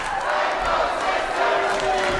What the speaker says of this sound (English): This crowd firmly behind the Psycho Sisters